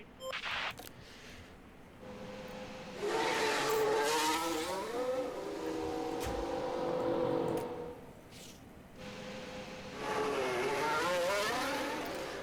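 Formula 1 race cars head out in the F1 Manager 2024 game, their engines whining and rising in pitch in two long passes that swell and fade at moderate distance.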